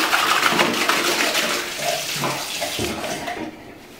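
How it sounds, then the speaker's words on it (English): Tap water runs in a loud, steady broadband rush while something is rinsed under it, with splashing shifts in the flow, and it eases off slightly toward the end. "Just wash it with tap water."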